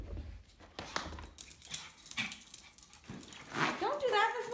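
Excited dog eager for a walk, panting, whimpering and yipping with high whines near the end, close by and mixed with a person talking to it.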